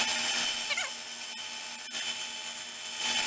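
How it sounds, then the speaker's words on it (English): A continuous high whirring of a cordless drill running steadily in reverse, with a faint squeak and small clicks as the bit turns against metal. "get it into your cordless drill and rotate it backwards"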